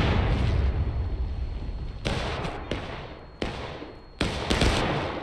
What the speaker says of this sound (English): Hearing a lot of gunfire.